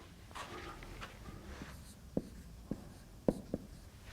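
Chalk or marker strokes on a board during a mathematics lecture, a series of quiet scratching and tapping marks with sharper taps near the end, set against faint room noise and no speech.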